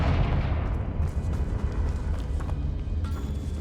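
Booming magical blast from the Confringo fire spell in Hogwarts Legacy, a heavy low rumble that sustains across the whole moment, with faint crackles and debris ticks layered on top.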